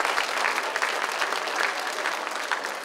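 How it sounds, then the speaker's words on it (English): Audience applause after a fourth grade winter chorus concert, a full, continuous burst of many people clapping in a school hall, loud and steady throughout. "Give yourselves a round of applause."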